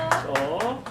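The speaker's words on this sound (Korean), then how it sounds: "네, 박수!" A children's Sunday school audience at a church service gives a quick burst of about four evenly spaced claps, close and fairly loud, with a voice speaking over them.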